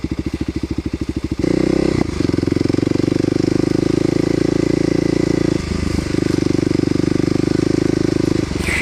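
A Kawasaki KLX250SF dual-sport motorcycle being ridden: a loud, close engine chugs in quick even pulses, then opens into a continuous rumbling drone that dips briefly and picks up again.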